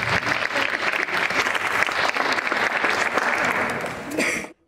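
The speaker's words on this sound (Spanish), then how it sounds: "doctor Humberto Jesús Quintana, para quien pido un fuerte aplauso, por favor." Audience applause greets a speaker at a human rights conference, a dense, loud burst of many hands clapping that holds steady for over four seconds and then cuts off abruptly.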